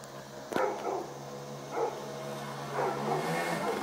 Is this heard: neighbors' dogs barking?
yes